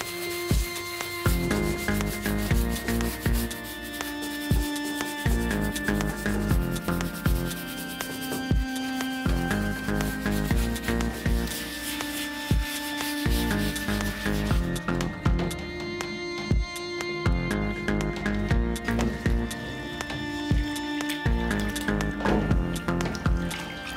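Scrubbing mud off flood-damaged Amiga 500 chips and parts by hand: steady, repeated rubbing and brushing strokes, close and fairly loud, continuing without pause and with no speech.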